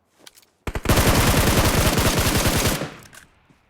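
Rapid automatic gunfire in a video game, a dense burst of shots lasting about two seconds, loud and close, preceded by a couple of faint pops and trailing off into a softer tail.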